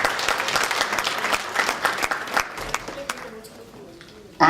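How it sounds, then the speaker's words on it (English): Audience members at a chapter-growth celebration break into dense, loud applause with a few cheers, the clapping tapering off over several seconds until only scattered claps remain. "And I think we deserve a big round of applause."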